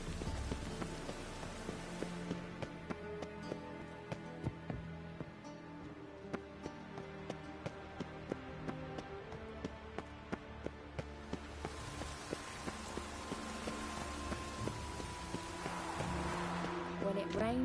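Steady rain falls in The Witcher III: Wild Hunt, a dense patter under game music, with voices speaking and sharp clicks scattered throughout.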